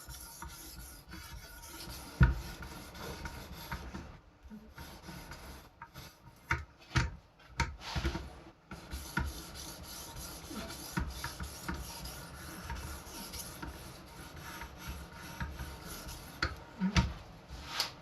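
Carving knife being sharpened on an 1100 grit whetstone with light pressure, mostly pull strokes, giving a steady close rasping rub with uneven stroke bursts and no talking.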